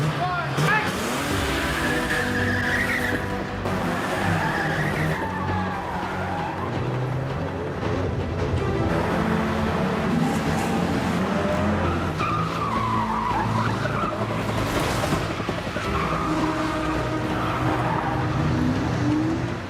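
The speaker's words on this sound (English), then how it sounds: "we are spinning around doing handbrake turns" Car spinning through repeated handbrake turns during stunt driving, tires skidding and squealing continuously with a steady engine roar, loud and close, as people talk in the background.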